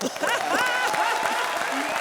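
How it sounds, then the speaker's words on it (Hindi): Studio audience at a Kapil Sharma comedy show breaking into applause, a short burst of clapping heard under and around lively talking voices. "कितने लगता है आ गए जोरदार तालियां"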